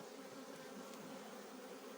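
Honey bees crawl over frames lifted from a hive, a dense, steady buzzing drone filling the whole moment at a fairly soft level with no voices.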